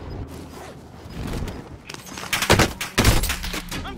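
Video game gunfire sounds as a cluster of sharp, loud shots after the midpoint, with several bursts close together between about 2.3 and 3.2 seconds over a busy background rumble.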